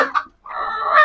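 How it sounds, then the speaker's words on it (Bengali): A desi hen on a home farm clucks up close, giving a short call, a brief pause, then a sustained loud cluck. "এখানে এক দেশি মুরগি, এটা আমার নিজের খামার মুরগি"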